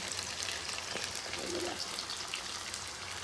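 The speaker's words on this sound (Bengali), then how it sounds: "এই যে দেখো এখানে বক ফুলগুলো এই যে দিয়ে দিয়েছি প্রায় ভাজাই হয়ে গেল" Bok flowers frying in hot oil in a pan, giving a faint, steady crackling sizzle that runs on without a break.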